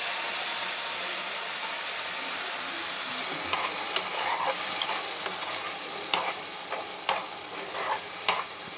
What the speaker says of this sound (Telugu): తాలింపు గింజలు వేసుకుందాం.